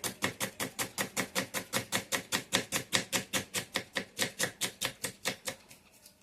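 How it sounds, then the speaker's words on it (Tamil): A knife finely chops garlic and green chili on a board for egg chutney, a fast, steady run of close, crisp chopping strokes with no talking. "இதை வந்து நல்லா நல்லா நைஸாக கட் பண்ணிக்கணும்"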